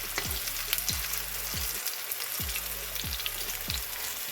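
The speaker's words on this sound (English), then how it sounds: "We're just frying them for a few minutes on each side." Steady, dense sizzling of hash browns frying in hot oil, close and continuous, with a few soft low thumps spaced through it.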